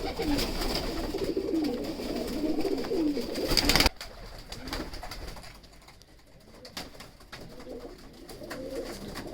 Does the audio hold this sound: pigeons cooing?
yes